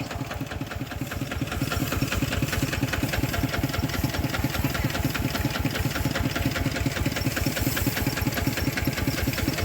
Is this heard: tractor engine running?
yes